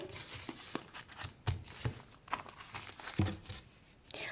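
Crinkly paper surprise packets are handled and unwrapped up close, with soft irregular rustling, crumpling and occasional tearing bursts at a quiet level and no voices.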